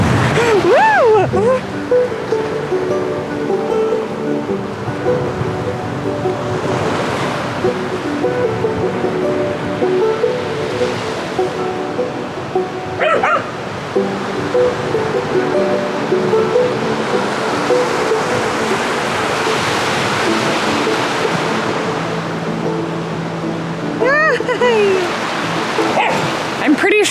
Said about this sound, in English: I can hear, smell, and see the water